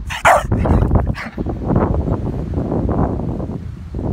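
A Doberman barks on command outdoors, several sharp barks near the start followed by lower whimpering and rumbling vocal sounds under light wind noise.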